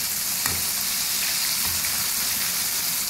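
KFC-style fried chicken frying in oil in a covered pan over a medium flame: a loud, continuous sizzling crackle with scattered small pops and no talk.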